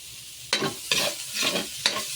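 Onions frying in a pan for spaghetti sauce, a close, steady sizzle broken by four or five scraping stirs of a spatula in an uneven rhythm, with no voices.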